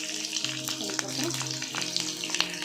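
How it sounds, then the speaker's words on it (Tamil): Garlic sautéing in hot oil with curry leaves and green chillies for karuvadu thokku, a steady close sizzle broken by light stirring clicks and scrapes. "பூண்டு நல்லா கொஞ்சம் வதங்கணும்."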